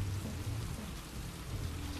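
Steady rain hisses continuously in a scene from the video game Heavy Rain, with a low rumbling undertone and no voices.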